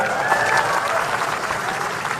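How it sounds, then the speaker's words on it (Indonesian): A crowd applauds for Brimob troops at a ceremony, a dense, steady wash of clapping that holds loud and even throughout with no pauses. "Tepuk tangan semuanya."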